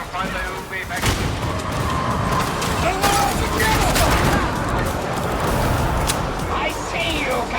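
Gunfire in the video game Warhammer 40,000: Darktide, dense bursts of shots and sharp impacts cracking continuously through a chaotic battle, with voices calling out over the shooting.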